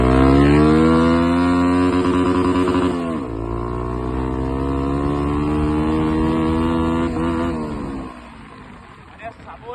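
A Bajaj Pulsar NS motorcycle with a modified exhaust holds a loud, steady engine drone. The pitch drops after a few seconds, then the engine tapers off near the end.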